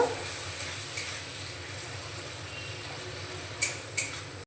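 Whipped sour yogurt is stirred into fried spices in a pot over a low gas flame: a soft, steady sizzle, then a couple of brief metallic clinks of a spoon against the pot near the end.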